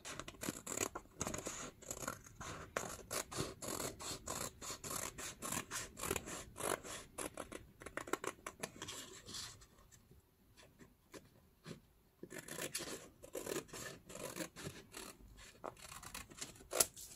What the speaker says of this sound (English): use my scissors here, and cut the paper around